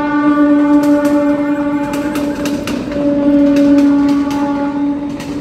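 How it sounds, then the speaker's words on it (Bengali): A train passes near a rooftop, its loud sustained horn-like tones ringing over a rumbling roll of wheels and carriages that swells and then eases. "ট্রেন আসছে এখন, ট্রেন।"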